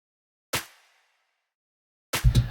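Two percussive hits in a sparse Reaper mix, a sharp snap-like clap sample with a short decaying tail, then after a pause a fuller clap layered on a snare hit with thick low body.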